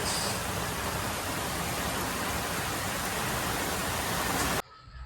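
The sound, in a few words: heavy rain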